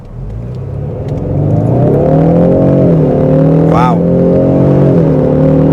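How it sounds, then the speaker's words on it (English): A 2024 Ford Mustang Convertible EcoBoost accelerating hard from a standstill to 60, engine note rising steadily through gear changes, heard loud and close from inside the car, with a brief exclamation from an occupant. "we're gonna get down to 0 and then see how the acceleration is"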